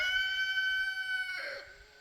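A rooster crows one long, drawn-out call that rises and then trails off at the end, fairly clear against a quiet background.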